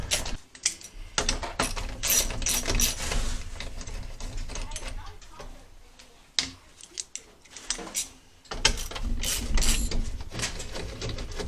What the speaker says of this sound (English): take all of these perimeter bolts off and take out the gauges